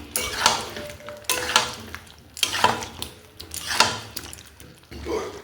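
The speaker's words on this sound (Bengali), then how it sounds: "ভালো করে নাড়াচাড়া করে নেব।" A spice paste and chicken for Kashmiri yogurt chicken are stirred in a pan over a low flame: rhythmic scraping strokes, about five in a row, over a soft sizzle, close by, with no speech.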